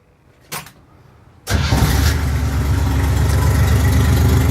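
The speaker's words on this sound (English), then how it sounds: "It's got a really good sound with that Odd Fire V6." After a brief click, the odd-fire V6 engine of a 1971 Jeep CJ5 cranks and catches, then settles into a steady, loud rumbling idle close by.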